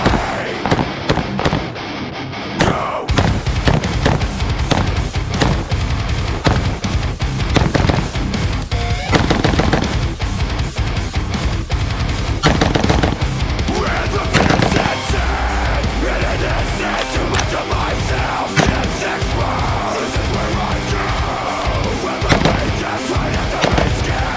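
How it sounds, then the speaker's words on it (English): Rapid bursts of gunfire from a Geissele Super Duty 14.5-inch rifle, loud, sharp reports fired in quick succession almost continuously, with brief pauses between strings of shots. "Just a remarkably pleasant gun to shoot."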